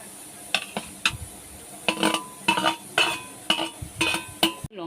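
Bitter gourd and potato fry stirred into a pan with cooked egg: repeated scraping, clinking spatula strokes in irregular bursts over a faint sizzle, close and fairly loud.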